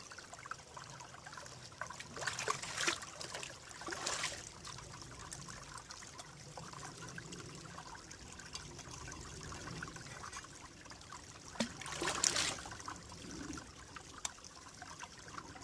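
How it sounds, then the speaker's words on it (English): Water trickles and pours over camp stove gear being rinsed outdoors, two brief louder splashing pours standing out against a quiet, steady background with no talking. "Now, let's give that a rinse."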